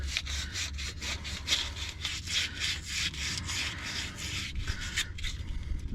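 Sandpaper rubs in quick back-and-forth strokes during repair work on a 1994 Dodge Dakota 5.2L V8, a close, rhythmic rasping with about a dozen regular passes and no talking.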